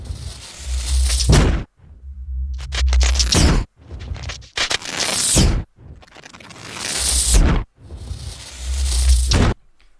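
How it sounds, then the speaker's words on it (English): Designed sound effect for the Brute Rifle weapon in the video game Halo Infinite: four loud, layered rising whooshes with crackling, fiery texture and deep rumble, each surging to a peak then cutting off sharply, with brief gaps between. "First things first was to get kind of the rising sound effect of that gun."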